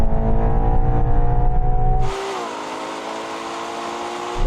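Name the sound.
Ferrari Purosangue accelerating in a drag race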